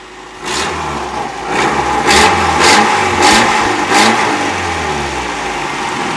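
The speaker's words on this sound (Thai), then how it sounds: "เดี๋ยวผมสตาร์ทให้ดูเครื่องนะฮะ เครื่องสตาร์ท" A 2008 Suzuki Carry small pickup truck cranks and catches, then its engine revs in several rising bursts before settling into a steady idle, loud and close.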